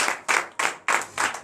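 A church congregation at morning prayer claps together in steady rhythmic bursts, several sharp claps landing at regular intervals, loud and close, with no talking.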